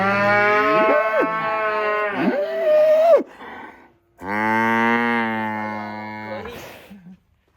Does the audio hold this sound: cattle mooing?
yes